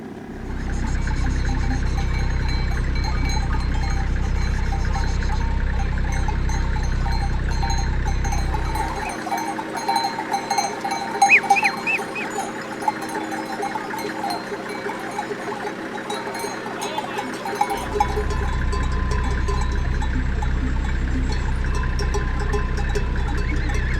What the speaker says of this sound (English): the entire road was blocked by at least 200 sheep and goats